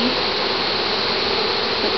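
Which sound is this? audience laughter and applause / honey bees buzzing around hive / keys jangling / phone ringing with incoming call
honey bees buzzing around hive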